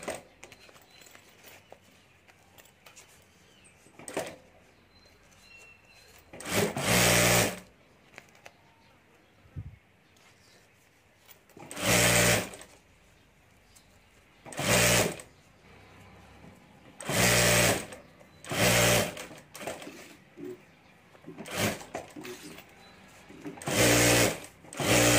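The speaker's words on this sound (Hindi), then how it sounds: "और अब यहाँ ऊपर हमें सिलाई कर देनी है।" A home sewing machine stitches fabric and lining for a handbag in repeated loud, close bursts of rapid mechanical whirring, separated by quieter handling sounds, with a voice speaking in between.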